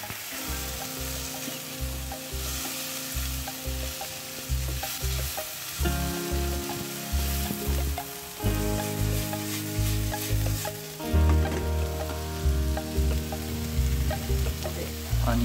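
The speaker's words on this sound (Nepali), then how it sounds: "टमाटो हालेपछि फेरि यसलाई स्टिर गर्नु पर्यो चलाउनु थाल्नु पर्यो" Chopped tomatoes sizzle and fry in a pan while tea flowers are being cooked, with a steady hiss and repeated rhythmic scraping as the mixture is stirred throughout, close and fairly loud.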